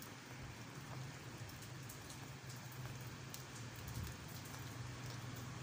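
Moderate rain falling steadily over Karachi, a continuous dense hiss of drops on surfaces with no gaps, fairly distant and even in level, with a faint low hum underneath.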